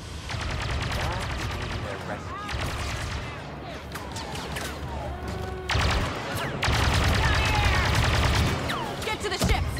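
Rapid blaster gunfire rattles through a Star Wars Battlefront II battle, with dense overlapping volleys and sharp bursts across the whole stretch, loud and close, while voices call out over the shooting.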